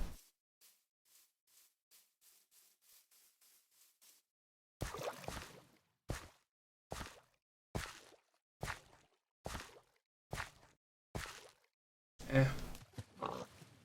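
Pigs in the video game Minecraft grunt in a series of short, evenly spaced snorts, faint and soft at first, then louder and closer, with one heavier grunt near the end.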